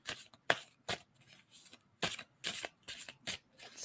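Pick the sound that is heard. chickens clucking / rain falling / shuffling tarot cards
shuffling tarot cards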